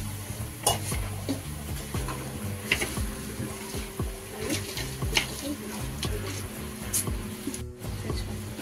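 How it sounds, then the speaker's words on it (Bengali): Whole cumin seeds and bay leaves crackle and sizzle in hot cooking oil as they are stirred, a steady frying hiss with spoon scrapes against the pan and a few sharper pops throughout. "এর মধ্যে ফোড়নে দেবো গোটা জিরে, আর দিয়ে দেবো তেজপাতা"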